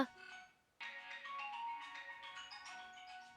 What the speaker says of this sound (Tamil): என் ஃபோன் ரிங் அடிக்கிற சவுண்ட் கேக்குதுல்ல